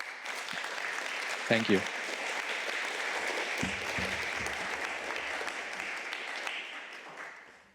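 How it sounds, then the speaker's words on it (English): Warm applause from a conference audience after a talk on end-of-day workflows for financial processes, a steady broad wash lasting several seconds while a speaker talks over it and then fades out. "you were getting a very warm round of applause there"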